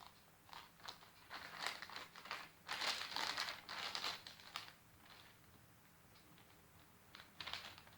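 Scissors cut open a mailer bag during a book unboxing, giving quiet, close crinkling and crisp snipping of plastic in irregular bursts, then a softer stretch with a few last rustles.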